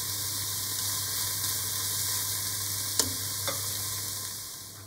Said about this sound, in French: Je remue, je baisse mon feu. Et je vais laisser un petit peu mijoter environ 3-4 minutes